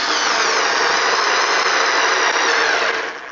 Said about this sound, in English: Let's see if I can drive the screw in as far as I could with the Vigrue using the Ryobi.